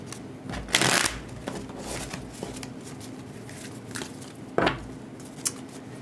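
Tarot cards are shuffled by hand with a few sharp riffling bursts and softer sliding shuffles in between, close up in a quiet room.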